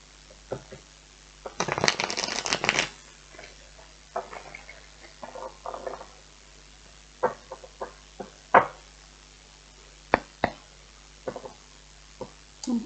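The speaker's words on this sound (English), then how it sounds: "One more shuffle." Tarot cards being shuffled, a dense burst of riffling followed by scattered soft taps and slides of cards, close and fairly quiet, with no talking.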